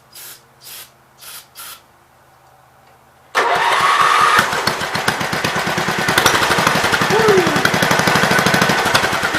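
Engine on a 526 fed with carb cleaner: four short hissing bursts of spray, then the engine cranks and catches into a loud, rough, rapidly pulsing idle that keeps running, with voices talking over it.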